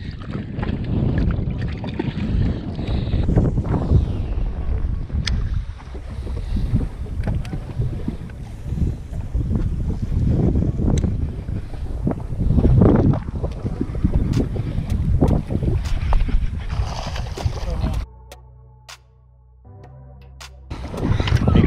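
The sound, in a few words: wind blowing on a lake during a fishing trip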